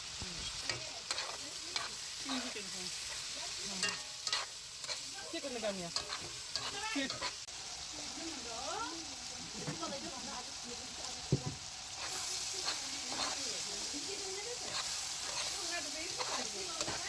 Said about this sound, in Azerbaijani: Duz, istiot, kişmiş və quru meyvələri də qatıb biraz qızardırıq.